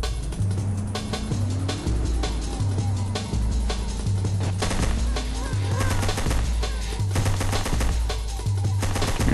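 Rapid bursts of automatic gunfire in the video game Arma on a desert map, repeated in short rattling volleys with a vehicle engine droning underneath and players talking over the radio.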